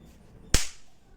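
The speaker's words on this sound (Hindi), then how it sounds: "ये अभी मैं मार के यहाँ फेंकूं तो वो भी चल जाएगा।" A small chit-chat snap firecracker for Diwali, thrown onto the ground, bursts once with a sharp, loud crack that fades quickly, alone against quiet background noise.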